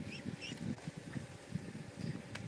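Several swimming ducks quack softly and intermittently, with low nasal calls scattered over a quiet outdoor background.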